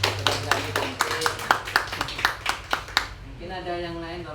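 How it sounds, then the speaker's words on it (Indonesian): An audience at an indoor meeting claps in brisk, fairly regular beats for about three seconds, then the clapping stops and a voice carries on speaking. "Kasih tepuk tangan Bapak Ibu."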